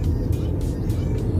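Car with manual gearbox in second gear at around 2000–2500 rpm, a steady low engine drone from inside the cabin, continuous and fairly loud with slight throttle swells.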